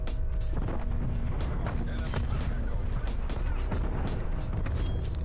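War Machine grenade launcher blasts in Call of Duty Cold War: a dense, continuous barrage of booming explosions and gunfire, loud and chaotic, with overlapping impacts throughout.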